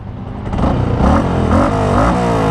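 Yamaha R15V3 motorcycle fitted with a Ronin Hanzo exhaust in silent mode, engine rumbling up close with a couple of throttle blips rising and settling, loud and steady with no talk.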